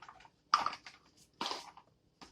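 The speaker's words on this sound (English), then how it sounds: "And we're going to pour that in there." Wild blend rice being poured into a crockpot, two short quiet rushing spills a second apart and a third starting at the end, close up with silence between.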